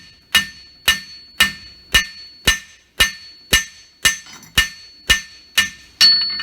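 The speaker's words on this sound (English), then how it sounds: "That's the flat side of the hammer." Eleven evenly spaced, ringing hammer blows on hot metal at a forge while shaping a horseshoe, each strike sharp with a bright metallic ring that decays before the next; close and loud with no talking.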